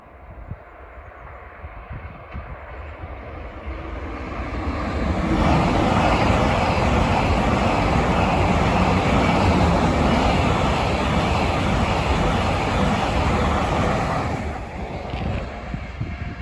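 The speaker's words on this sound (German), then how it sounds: "Ein Zug aus Würzburg auf der Schnellfahrstrecke." A train from Würzburg passes on the high-speed line near Burgsinn operations station. A loud broadband rush swells over a few seconds, holds steady, then fades as it moves away, with no talk.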